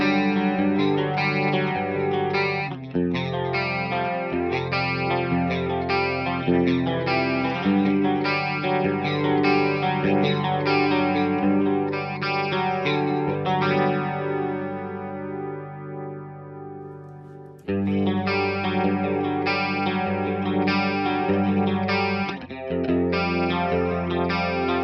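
An electric guitar plays sustained chords and notes through an MD500 chorus pedal set to Dimension C modes 1 and 3, giving a wide, shimmering tone that fades to near-silence midway before strumming resumes loudly.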